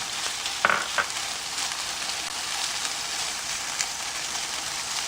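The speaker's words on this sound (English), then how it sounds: "now I'm going to add my shrimp and just let that cook a little bit" Shrimp sizzling in a hot pan beside onions for fried rice, a steady broadband frying hiss with a couple of sharp pops near the start, no voices.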